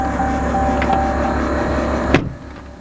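Air ride suspension on a truck airing up, a loud steady compressor drone with a faint whine, cutting off with a short hiss near the end, close by and with no voices.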